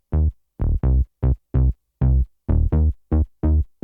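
A buzzy saw-wave synth bass in a classic house style plays eleven short, punchy notes in a bouncy rhythm, each cut off cleanly, loud and dry with nothing else playing.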